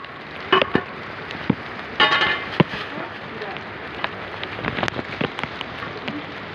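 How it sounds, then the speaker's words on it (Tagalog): Heavy rain pours steadily onto surfaces as people work in it, a dense wash of spattering drops with occasional louder splashes and knocks, while voices talk intermittently. "Sabayan natin ang buhos ng ulan."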